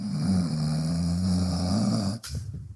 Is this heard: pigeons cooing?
no